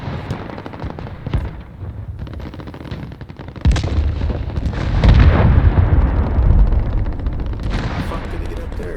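A cruise missile strike in a Call of Duty: Modern Warfare ground war match lands as a sudden heavy boom followed by a long, rolling rumble, with steady machine-gun fire crackling throughout and faint in-game voices.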